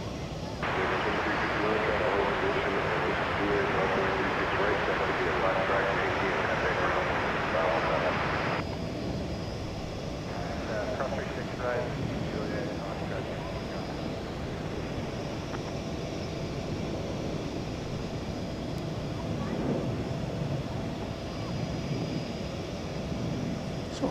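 An airplane at DFW Airport roars as a broad, loud engine rumble that holds steady for several seconds, then cuts down to a softer distant drone beneath someone talking.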